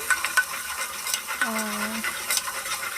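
Spices and chilli powder stirred and sizzling in a pan of oil for Muslim-style mutton biryani, a steady close fry with scraping stirs and a brief tonal squeak from the utensil.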